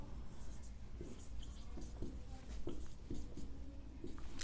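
Marker or chalk strokes on a board as an English example is written in a lesson, soft separate scratches and taps in an irregular rhythm, faint and close, with no speech.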